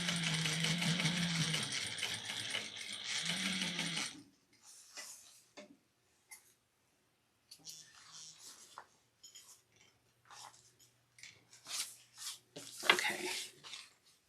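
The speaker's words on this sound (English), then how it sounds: "we're going to top stitch that side down on the exterior" A sewing machine top stitching the exterior of a crossbody bag runs in a steady, close whirring stretch for about four seconds, then stops; sparse handling clicks and rustles follow, with a brief quieter run later.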